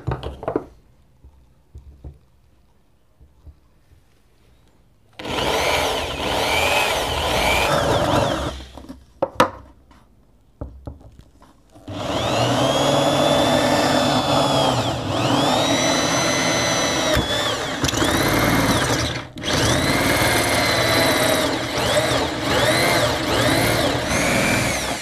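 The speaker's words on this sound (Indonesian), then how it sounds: "Kita akan bor ya." A power drill whines in two long runs, its pitch rising and falling as it bites into PVC pipe, separated by quiet handling noises and clunks.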